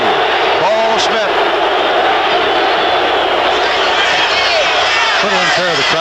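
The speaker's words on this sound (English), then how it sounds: "A little unfair of the crowd to boo when the referee makes the proper decision" Stadium crowd at a college football game, Pittsburgh Panthers at Florida State Seminoles, booing the referee: a loud, continuous roar of massed voices filling the whole stretch, with chanting swells rising near the end.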